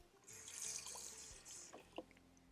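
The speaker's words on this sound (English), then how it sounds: "Next, I'm going to add enough water to cover the beans by about 2 inches." Tap water runs into a large saucepan of dried beans, a steady hiss of pouring with a few small drips and splashes near the end, close and quiet.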